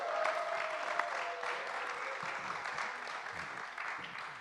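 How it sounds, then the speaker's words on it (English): A live-stream audience applauds a guest named Brittany at a recovery event, with steady clapping that stays even and fairly distant for several seconds. "round of applause."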